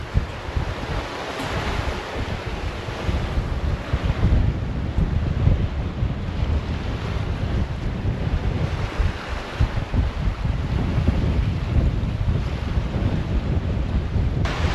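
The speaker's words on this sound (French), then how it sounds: "les vagues sont pas trop fortes, mais de temps en temps, il y en a une qui casse sur le côté du Kata et ça arrose un peu tout" Wind and sea waves around a sailing catamaran crossing the ocean, a loud, steady rushing roar with wind buffeting the microphone and occasional waves breaking against the hull, with no voices.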